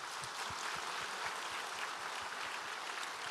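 Church congregation applauding together during a Korean Sunday sermon, a steady wash of many hands clapping at moderate distance with no voices over it.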